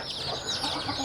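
Chickens on a backyard poultry farm clucking at feeding time in the morning, a dense, steady flock chatter close by with no speech.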